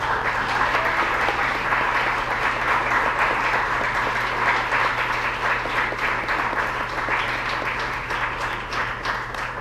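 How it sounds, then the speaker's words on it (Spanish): A church congregation applauds steadily and densely for the whole stretch, a loud, even wash of many hands clapping with no voices standing out. "Denle un aplauso al Señor."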